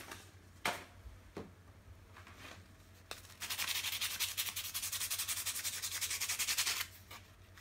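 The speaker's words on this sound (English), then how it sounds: "I'll get some sandpaper." Sandpaper rubbing crust off a zinc battery cell, a few scattered scratches and then a steady, rapid back-and-forth scraping for about three seconds, close and fairly quiet.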